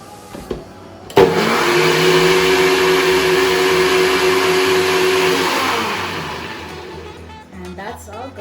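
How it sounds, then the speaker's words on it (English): A blender switches on abruptly and whirs steadily, blending peanuts for Jamaican peanut porridge, a loud close motor whine that runs several seconds before winding down, with faint movement sounds before and after. "Alright, so now we're going to blend it up."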